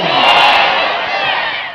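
A large gathering at a religious speech in Pangur, Balochistan roars back a loud takbir response, many voices shouting together in one sustained, swelling cry that fades slightly at the end.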